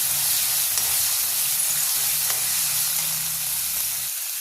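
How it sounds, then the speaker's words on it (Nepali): Chickpeas and peas frying in hot oil give off a steady, bright sizzle close up, continuous and even for several seconds with a faint low hum beneath. "यो चना केराउ राखिसकेपछि हामी चाहिँ एकछिन यसलाई भुट्छौँ चना केराउलाई"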